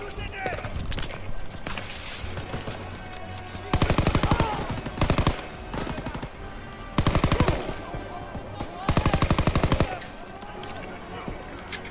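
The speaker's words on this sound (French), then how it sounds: "ces mitrailleuses tirent sur votre position." Bursts of machine gun fire in the World War II shooter game Call of Duty WW2, several loud rapid-fire volleys in repeated bursts over continuous battle noise.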